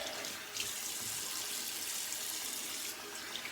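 Tap water runs steadily into a bathroom sink for a rinse after a wet shave, a close, continuous hiss that holds even throughout with no talking.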